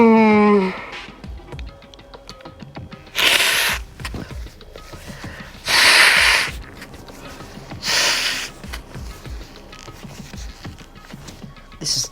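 A person blows their nose in several loud, breathy bursts, spaced a couple of seconds apart, over quiet background music from the Danganronpa 2 video game.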